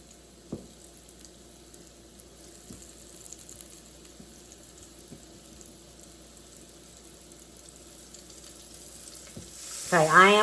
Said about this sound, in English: I'm going to test my oil, and it's sizzling good.